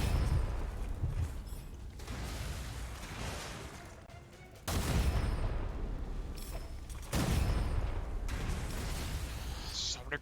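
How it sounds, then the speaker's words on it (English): Grenade blasts and gunfire in the shooter game Gunfire Reborn, loud dense bursts with two sharp booming onsets amid continuous chaotic combat noise. "So many grenades!"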